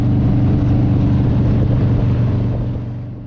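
A vehicle riding along Kawhia Road gives a steady, loud, close engine and road drone with a low rumble that eases slightly toward the end.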